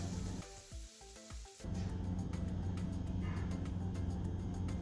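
Salt, timur, coriander powder, cumin powder, chili flakes and fenugreek sizzle in hot oil while tempering for Nepali chicken choila. A loud, steady hiss and crackle fills most of the clip, broken by a few quieter moments near the start.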